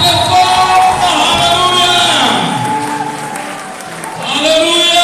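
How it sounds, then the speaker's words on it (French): A crowd at a book launch claps loudly and cheers in a sustained wash of noise, dipping briefly in the middle before swelling again, with voices and shouts mixed in. "Applaudissons très fort."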